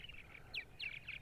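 Purple martins call from their nest houses on Eastern Long Island in spring, giving several quick, bright chirps in a loose series against a faint outdoor background.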